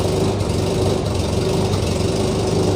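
A Vietnam War-era military jeep engine idles steadily after being started with the ignition key, a continuous low rumble with a constant hum throughout.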